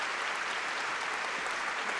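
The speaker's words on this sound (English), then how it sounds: "round of applause for the mods" A short burst of steady applause, dense clapping at a moderate, slightly distant level with no voices over it.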